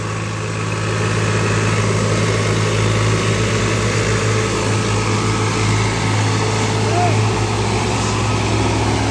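A Mahindra 735 tractor works to pull a stuck trailer loose, with a Mahindra 575 involved, its diesel engine droning loud and steady throughout while voices and background noise carry over the engine.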